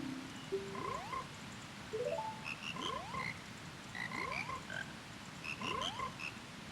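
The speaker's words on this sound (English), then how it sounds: "We got all the frogs there are." Frogs in The Legend of Zelda: Majora's Mask croak in a series of rising, chirpy calls, several in a row, over a steady low game ambience with no voices.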